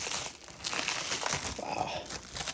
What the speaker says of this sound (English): we will do an unwrapping of this carefully because there's some cables in here